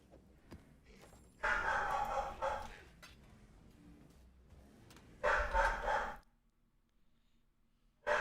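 A dog barks in two loud bursts of rapid barking, each lasting about a second or more, separated by quieter stretches in an indoor setting.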